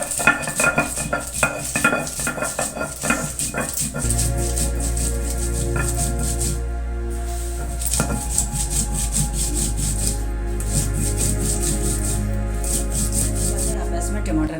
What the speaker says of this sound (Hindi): सिल पर सबसे पहले हम हरी मिर्चें, लहसुन और सफ़ेद ज़ीरा डाल करके इसको हम हल्का सा पहले पीसेंगे।